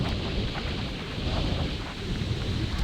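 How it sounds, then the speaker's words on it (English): Strong wind gusts buffet the microphone on a golf course, a steady loud rumbling roar that swells and eases, with no one talking. "That is really gusting now, isn't it?"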